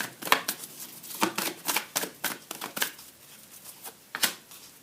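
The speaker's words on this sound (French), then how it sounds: "je sors 3 cartes et j'arrête là" Tarot cards drawn from a deck, giving a run of crisp papery slaps and shuffling flicks at an irregular pace, close and fairly quiet, with no voice.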